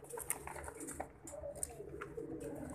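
Pigeons coo softly amid a busy, noisy backdrop of a pigeon keeper's collection, with scattered calls and rustling over a steady low rumble.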